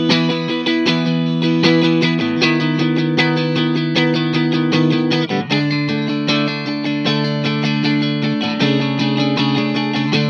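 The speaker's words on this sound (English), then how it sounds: "Then you get your bridge and neck," Bridge and neck pickups together on a 2019 Fender American Ultra Stratocaster, a continuous loud stretch of picked chords and melodic notes with a touch of chorus-like shimmer, played alone without talking.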